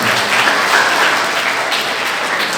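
Sustained applause from an audience at a community celebration of Babasaheb Ambedkar's birthday in Sandhwan, Punjab, a dense steady wash of clapping filling the whole moment with no voices over it.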